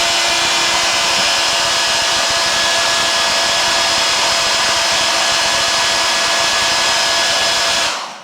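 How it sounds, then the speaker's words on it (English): A hairdryer blows steadily and loudly at close range, melting generous beeswax polish on a woodcarving, a continuous whooshing roar with faint tonal hum that runs unbroken for about eight seconds before cutting off. "Then use a hairdryer to melt it."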